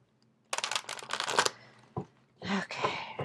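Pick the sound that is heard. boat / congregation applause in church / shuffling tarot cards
shuffling tarot cards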